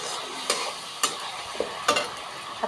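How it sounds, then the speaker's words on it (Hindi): Masala spices frying in a pan at home while rice, potato and cauliflower are cooked, a soft steady sizzle broken by several sharp scraping stirs. "देखिए मसाला बहुत अच्छा से भून गया है।"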